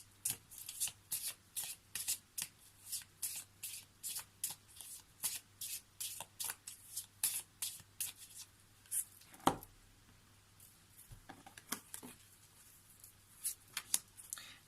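Lenormand oracle cards being shuffled by hand: a rapid, regular series of crisp riffling slaps, close and clear, with a brief pause and a few louder knocks near the middle.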